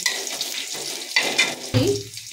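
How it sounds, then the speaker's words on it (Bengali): Ginger and a bay leaf drop into hot oil and fry with a crackling sizzle that swells sharply as they go in. The sound is close and loud, and no one speaks. "হাতে করে আদাটা দিয়ে দেবো, একটা তেজপাতা দিয়ে দিলাম, দিয়ে এখানে ভেজে নিলাম।"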